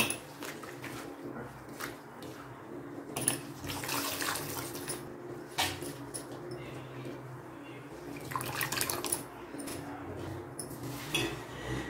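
Rose petals being rinsed by hand in a pot of water, with steady splashing and swishing, louder bursts of sloshing coming and going, and faint clinks of a metal vessel.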